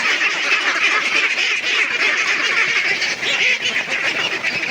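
A flock of domestic ducks calls loudly and steadily in a dense, continuous chorus of quacks while they wait to be fed.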